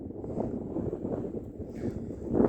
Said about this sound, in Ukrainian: Вітер і вітер і вітер.